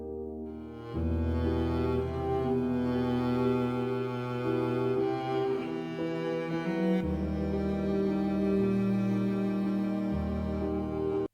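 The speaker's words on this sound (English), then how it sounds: "So if we put the piano and the cellos together, it'll sound something like this." Piano and cellos play together, sustained bowed low notes beneath a flowing piano line, steady and full throughout with no talking.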